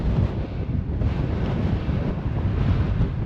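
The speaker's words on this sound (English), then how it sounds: "Right, it's going to be blowy up here" Strong wind roars across an island clifftop above the sea, a continuous loud buffeting rumble with gusty swells throughout and no voices.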